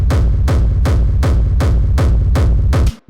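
Distorted industrial techno kick drum with reverb, thumping in a steady, loud four-on-the-floor pattern of about eight heavy hits with booming low tails, cutting off abruptly at the end.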